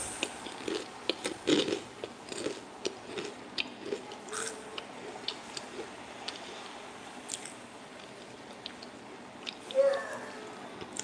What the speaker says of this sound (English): you may hear me crunching, a little bit of snacking ASMR